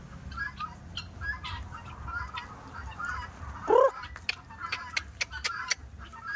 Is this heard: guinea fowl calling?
yes